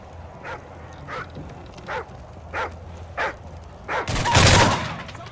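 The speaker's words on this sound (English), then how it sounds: "Thermal scans show attack dogs in your area." Attack dogs in Call of Duty Modern Warfare multiplayer, six evenly spaced sharp barks at mid distance, then a loud burst of gunfire.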